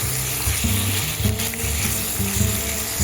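Chicken pieces frying in a hot pan for green chicken chops, a steady loud sizzle with scraping and stirring bumps on top, no talking.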